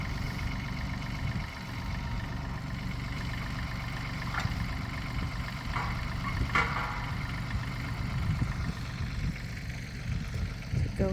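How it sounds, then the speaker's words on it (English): Farm tractor idling after being brought home from the fields, a steady low rumbling engine with a faint background voice and small knocks. "brought home the tractor from the fields."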